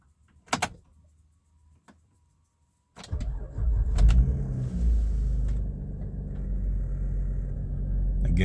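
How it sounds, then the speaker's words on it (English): A 2007 Saturn Aura XR goes through a cold start: a couple of clicks and a short whir, a brief pause, then the engine catches with a loud rumbling start and settles into a steady, close idle. "here we are from a cold start up"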